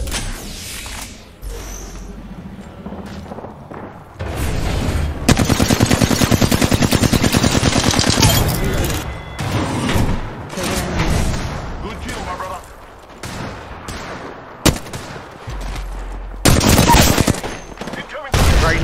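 Rapid bursts of automatic gunfire in a shooter video game, loud and sustained for long stretches with brief pauses and sharp single shots, while a player talks over the game action.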